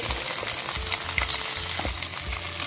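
Thinly sliced onion frying in a pan of oil for okra fry, a close, continuous crackling sizzle with soft low bumps from stirring.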